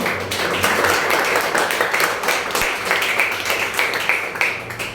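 A church congregation applauds during a Spanish-language sermon, a loud, continuous patter of many hands clapping, with a few sharper claps standing out.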